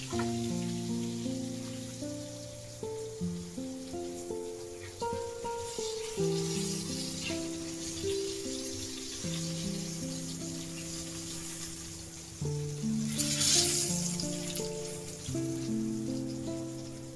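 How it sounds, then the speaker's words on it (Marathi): Fish pieces frying in oil in a pan, a steady soft sizzle with crackling bursts running through the whole stretch and no talk. "अशा प्रकारे मच्छी भाजून घेणार आहे आपण"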